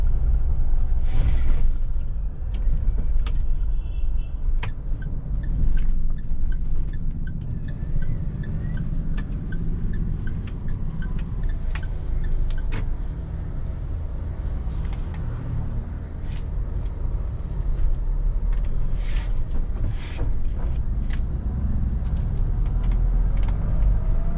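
A petrol Mahindra Thar with a manual gearbox driving on a beach, its engine a steady, loud low rumble with mechanical whir and occasional shifts in pitch as gears change, no voices over it.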